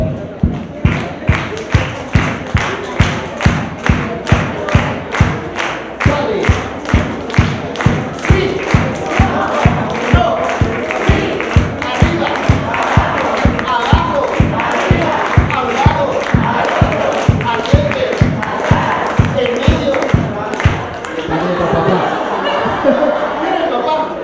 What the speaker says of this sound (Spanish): Mejor vamos a hacerlo con palmas